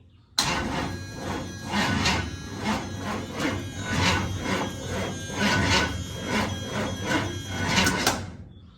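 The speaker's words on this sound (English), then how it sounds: "I'm trying to see if I can get it to crank over really well, and here we go" A 1968 Chevrolet C10 engine cranks over on its first start attempt, its starter churning in a rapid, labored rhythmic pulse that runs steadily for about eight seconds without catching, close and loud.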